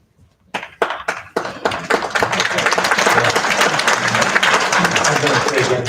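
Applause at a public hearing of a local board of adjustment, starting with a few separate sharp claps and swelling into sustained, loud clapping from the room.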